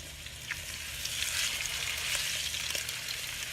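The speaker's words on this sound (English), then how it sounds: "Hear that sizzling?" Blackened catfish fillets sizzle steadily in a hot pan, a loud continuous frying hiss with small crackles and pops throughout, no voices.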